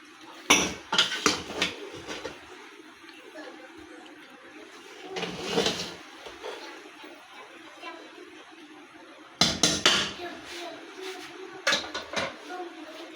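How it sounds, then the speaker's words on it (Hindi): Rice for Sindhi biryani is stirred in a metal pot, with clusters of sharp spoon scrapes and clanks in bursts separated by quieter stretches; a voice is faintly audible. "चावलों को एक मर्तबा मिक्स कर दीजिए"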